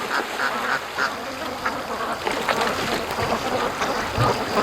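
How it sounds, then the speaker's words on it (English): A flock of ducks quacks in alarm on a lake, calls overlapping in a busy, continuous stream amid outdoor water and ambient noise, with no talking. "Yeah, the ducks are panicking."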